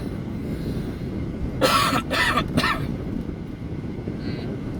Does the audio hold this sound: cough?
yes